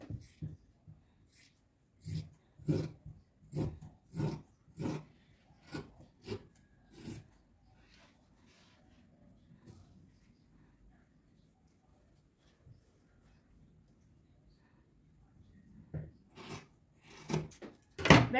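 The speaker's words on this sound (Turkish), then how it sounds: "Şimdi şalvarımı hemen kesiyorum" Scissors cut through fabric for a child's shalwar in a run of sharp, rhythmic snips and rasps. They stop for a quiet stretch, then resume near the end, close and unaccompanied by talk.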